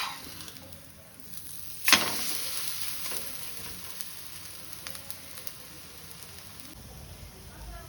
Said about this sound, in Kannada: ಅಷ್ಟೇ ಮೀಡಿಯಮ್ ಟು ಹೈ ಫ್ಲೇಮಲ್ಲಿ ಇಟ್ಕೊಂಡು ಇದು ಸ್ವಲ್ಪ ನೀವು ಫ್ರೈ ಮಾಡ್ಕೋಬೇಕು